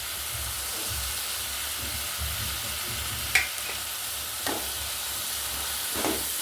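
Crushed garlic, ginger, green chili and curry leaves sizzle in a frying pan with a constant, fairly loud hiss. A few isolated spoon scrapes stand out near the end.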